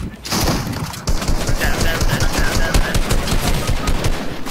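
Rapid submachine gun bursts in a shooter video game, loud and continuous for several seconds, with a player's voice talking over the fire.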